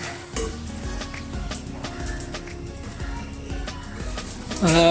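Neem leaves and water boil in a pot on a stove, a steady low bubbling and simmering hiss with occasional clinks of metal, close by and fairly quiet, ending in a brief louder rise.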